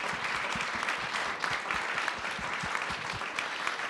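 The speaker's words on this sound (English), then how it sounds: "Let's give them all a round of applause." Sustained audience applause fills a National Press Club event room, a dense, steady wash of many hands clapping at even loudness throughout, with no voices standing out.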